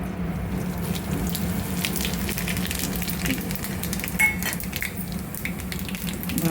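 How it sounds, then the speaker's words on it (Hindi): Steady sizzling and crackling of spices frying in hot mustard oil for a tadka, close and continuous, with a low hum underneath. "अब मैं इसमें डालती हूँ जो मैंने ये मसाला तैयार किया है तड़का लगाने के लिए।"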